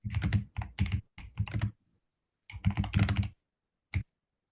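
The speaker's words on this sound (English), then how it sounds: "I hear typing." Bursts of keystrokes on a computer keyboard come in several short clusters with gaps of silence between them, fairly close and crisp, ending on a single isolated tap, with no voices.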